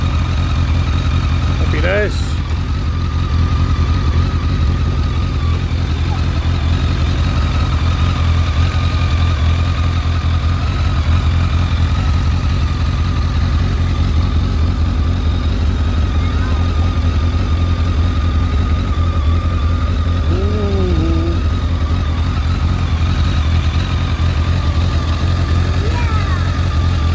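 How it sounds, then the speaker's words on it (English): A vehicle engine idles steadily at close range while charging its battery, a constant low rumble throughout with brief voices passing over it. "Been left idling for the last few minutes, 5 minutes say, and it's charging nicely."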